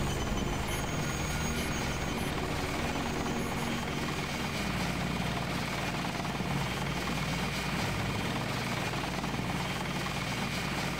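A helicopter in the video game Deus Ex roars continuously nearby, a loud, dense rotor and engine drone with a steady low thump that holds for the whole stretch.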